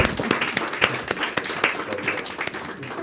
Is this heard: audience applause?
yes